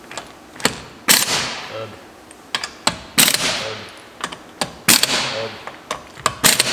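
Wrench clicks and clacks in short irregular bursts while snugging up wheel bearing bolts on a Porsche 924 rear hub, close and fairly loud, with a man grunting between strokes.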